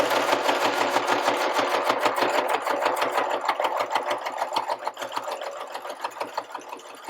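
A sewing machine stitches across the leg elastic of a pocket cloth diaper, a rapid, steady mechanical chatter that runs continuously and close up, slightly slowing near the end.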